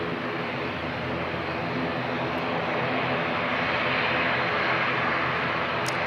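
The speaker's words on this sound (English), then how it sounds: "Awesome sound coming off those ATRs." ATR turboprop aircraft engines at Christchurch Airport, a loud, steady broadband roar with a droning hum that holds for the whole stretch, alone without talk.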